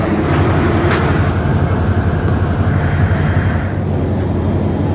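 A train rumbles at an Ibrahimabad station in Bangladesh, a steady loud low roar of wheels and carriages with faint squeals, continuous and close throughout.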